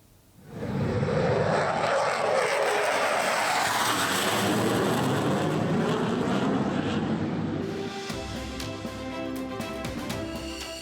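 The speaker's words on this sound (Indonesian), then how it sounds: "Jet tempur mendarat dan lepas landas di jalan tol." Indonesian Air Force fighter jets using a Trans Sumatera toll road in Lampung as an emergency runway: a loud, sustained jet engine roar rises sharply and holds for several seconds before easing slightly into a lower rumble, with no talk.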